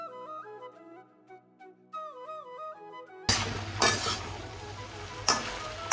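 A melodic music passage gives way abruptly to tomatoes hitting sizzling vegetables in a pan, with loud frying, clattering stirs and a couple of sharp utensil clanks.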